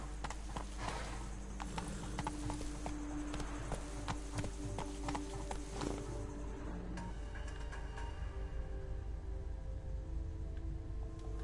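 Roach, a horse in The Witcher 3, gallops with fast, rhythmic clip-clop hoofbeats. The beats are clear and near, then fade into softer ambient sound near the end.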